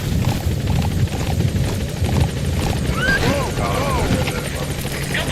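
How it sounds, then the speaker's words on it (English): A support helicopter arrives in Metal Gear Solid 5, its rotor producing a loud, steady beating thrum throughout, with a brief radio-like voice cutting in partway under the drone. "Support helicopter."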